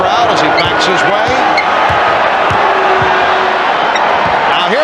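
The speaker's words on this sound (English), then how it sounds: "Charles Barkley hearing it from the crowd as he backs his way." A packed arena crowd at a 1993 NBA Finals game between the Chicago Bulls and Phoenix Suns roars and jeers loudly and continuously, with a bouncing basketball and sharp shouts cutting through the dense, steady noise.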